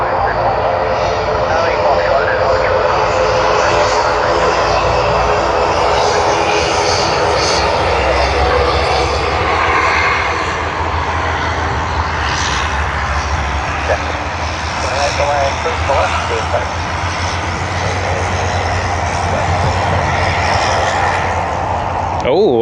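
Airliner engines roaring at Sydney Airport as a plane departs, a loud sustained rumbling jet drone with a shifting whine, heard from nearby beneath ongoing talk.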